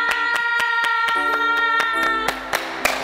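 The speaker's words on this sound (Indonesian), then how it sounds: "Yeay, udah tepuk tangan." Children at an online Sunday school service clap their hands in sharp, regularly spaced claps over a sustained musical tune, the claps growing busier toward the end.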